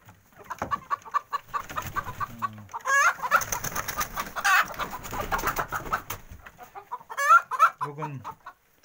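Hens cluck and squawk in a coop with new nesting boxes, several birds calling in irregular bursts at close range, with louder squawks near the middle and end.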